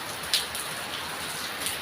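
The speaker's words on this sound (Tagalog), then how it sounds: "Ito talaga pag tag-ulan na" Heavy rain falls steadily in Boracay during the rainy season, a dense, even hiss of drops on surfaces with faint gusts of wind, close and continuous, with no voices.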